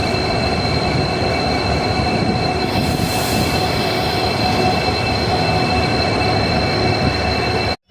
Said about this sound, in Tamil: ஸ்ரீ ராமேஸ்வரம் பேசஞ்சர் வந்து உள்ளே வந்துக்கிட்டு இருக்கு